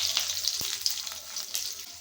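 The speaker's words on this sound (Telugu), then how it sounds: "మిరపకాయలు వేగే వరకు వేయించుకోవాలండి పోపుని" Mustard seeds, cumin, dried red chillies, curry leaves and green chillies sizzle in hot oil for a dal tempering, a steady close crackle with small pops.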